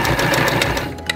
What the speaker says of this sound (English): now we are ready to go to the sewing machine